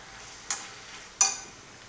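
Radish and onions for radish mezhukkupuratti frying in a pan and being stirred, two sharp scraping stirs about 0.7 seconds apart, each fading quickly, over a quiet low sizzle, with no talking.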